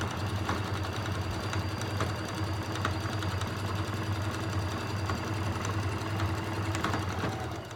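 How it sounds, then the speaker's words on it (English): Sewing machine stitching an elastic waistband, a continuous low mechanical hum with a fast steady stitching rhythm, close and even throughout with no talk. "as I come to the beginning, I'm going to backstitch, pick up my presser foot, and clip my threads"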